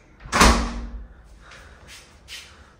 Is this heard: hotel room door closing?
yes